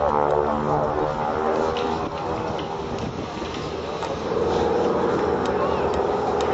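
A Boeing biplane flies an airshow display at Biggin Hill, its engine a droning, rising and falling roar in the middle distance, with a commentator's voice talking over it.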